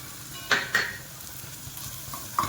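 Ginger garlic paste stirred into egg spinach curry in a pan, soft sizzling with a few sharp clinks of a spoon against the pot.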